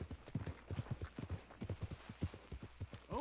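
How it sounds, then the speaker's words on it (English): Hooves of an Arabian horse in the video game Red Dead Redemption 2, a close, rapid, rhythmic clip-clop of galloping over a low steady background, with a brief whinny-like tone near the end. "He's got the horse everyone's been going after in this game, the Arabian horse."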